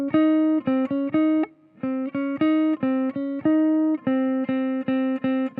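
A guitar string picked with the pick angled plays a steady run of bright, ringing notes in an even rhythm, close up and alone, with one short gap midway.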